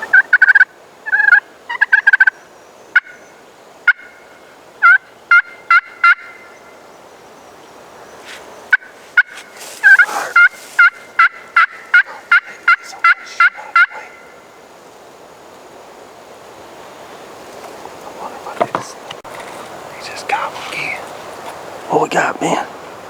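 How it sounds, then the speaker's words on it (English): Wild turkey gobbler in Mississippi woods during a spring hunt, gobbling in repeated loud bursts across the first half, then quieter rustling and faint calls, with hunters talking softly at times. "Got a turkey gobbling in the pipeline."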